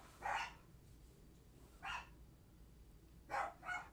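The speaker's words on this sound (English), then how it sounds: "And my dogs are barking." Several dogs bark in short separate bursts, three or four yaps at moderate distance, with quiet room tone between them and no talking.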